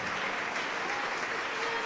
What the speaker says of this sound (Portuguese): Então dá uma grande salva de palmas para Jesus.